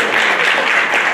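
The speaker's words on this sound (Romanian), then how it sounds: "am să vă rog să întâmpinăm în aplauze pe Denisa Mihai, PR Manager." A short burst of steady audience applause welcoming a speaker at a Bucharest media and marketing conference, dense clapping with no voices over it.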